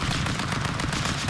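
Rapid, dense gunfire from the stick-figure brawler video game Stick Fight: The Game, a loud continuous burst of overlapping shots with no voices.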